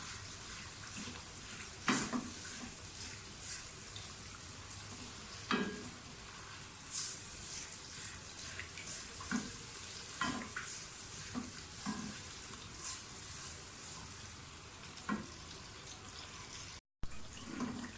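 Steady crackling sizzle of onions frying in hot oil, with occasional stirring clinks and scrapes, no talking.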